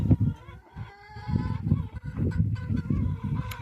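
Chickens cluck and murmur nearby in an irregular, busy chatter, with a few higher calls rising above the low, steady flock sounds.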